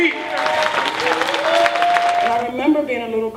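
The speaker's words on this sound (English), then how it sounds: "please stand up and give a round of applause" A gala audience claps and cheers during an awards presentation, a dense crowd applause under a loud voice and music-like tones, with the clapping thinning toward the end.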